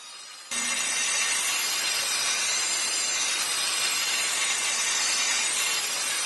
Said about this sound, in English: This is the final step in our project, sharpening the blade.